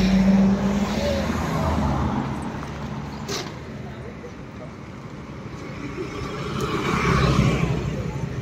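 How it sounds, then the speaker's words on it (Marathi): Cars roll past on a road near Khadakwasala, engine and tyre noise swelling, fading, then building again as vehicles go by, with people talking nearby. "तिकडून आहे गाड्या"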